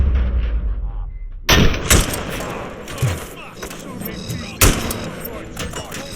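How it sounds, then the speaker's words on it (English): Gunfire from the video game RoboCop: Rogue City: sharp, loud shots at irregular intervals, a burst after a quiet start, over a steady background rumble of in-game action. "Am I hearing gunshots?"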